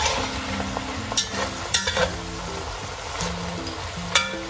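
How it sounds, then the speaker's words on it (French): Vinegar sizzles and evaporates in an open cocotte with rabbit and Sichuan pepper, giving a continuous close hiss broken by spoon scrapes and light clinks against the pot, with faint tonal hum underneath. "Je vais incorporer le vinaigre. Et là, je vais laisser évaporer vraiment le vinaigre."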